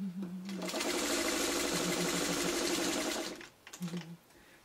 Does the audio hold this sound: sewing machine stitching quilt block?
yes